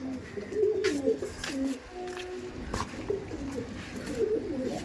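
Pigeons in a Howrah loft coo in repeated low, warbling phrases, several birds overlapping at close to moderate distance, with a few sharp knocks and rustles mixed in.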